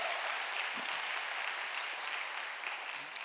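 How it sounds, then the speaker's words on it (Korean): A church congregation claps in welcome during a Sunday service, a soft, steady patter of many hands heard from a distance, running evenly without voices. "여러분께 박수로 환영하시지요"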